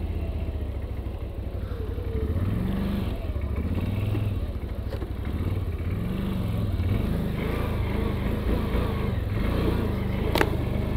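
A CFMOTO 1000 Gen3 quad engine-brakes on a trial track, its engine note a steady low drone that rises and falls in pitch over roughly ten seconds, with no talk.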